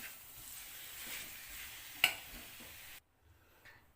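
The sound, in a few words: stirring mashed potato and masala mixture in a pan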